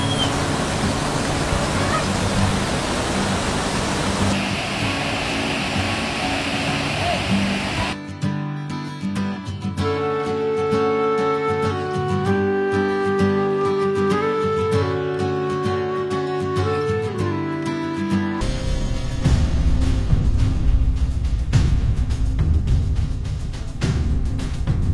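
Mangeli waterfall in Goa roars as a steady wash of rushing water, heard first and again at the end, with a middle stretch where music takes over and the water sound drops away.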